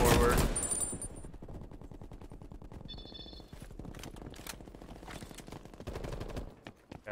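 Rapid automatic gunfire from Black Ops Cold War, loud and close, with dense bursts of shots and sharp transients running through the whole stretch, plus scattered in-game effects.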